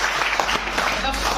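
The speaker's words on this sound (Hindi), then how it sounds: "इनके लिए जोरदार ताली होनी चाहिए" An audience bursts into loud, sustained applause: dense clapping from many hands fills the whole moment, with a voice speaking over it.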